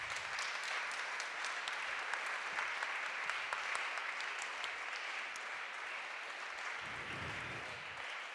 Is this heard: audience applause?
yes